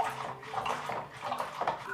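Water running and splashing as freshly developed Washi S film is rinsed in filtered rainwater with a drop of dish soap, a steady close gush with irregular sloshing surges.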